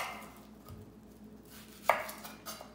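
A knife slices through the end of a red onion on a cutting board, giving one crisp, close chop in an otherwise quiet kitchen.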